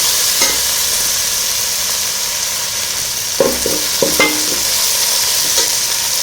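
A handful each of coriander and mint goes into hot oil for bagara rice, giving a loud, even frying hiss with a few brief utensil clinks against the pan and no voices.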